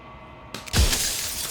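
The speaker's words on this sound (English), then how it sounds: "And then another crack forms, and another, turning the mirror into jagged shards of broken glass." A mirror in the video game Slay the Princess cracks and shatters into jagged glass shards, a sudden loud breaking crash after a quiet moment, followed by a lingering tinkling spray.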